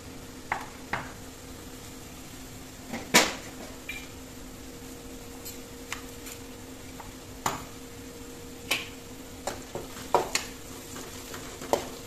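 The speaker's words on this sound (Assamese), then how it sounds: "এইখিনি অলপ লৰাই দিলোঁ" Chicken curry for a bottle gourd dish, seasoned with salt and turmeric, being stirred in a pan: soft scraping and stirring scuffs with scattered sharp clinks of the spoon against the pan over a low steady sizzle, no voices.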